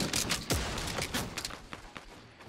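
Rapid gunfire in Fortnite Battle Royale on the Christmas map, a burst of repeated sharp shots crackling close by, thinning out toward the end with scattered pops.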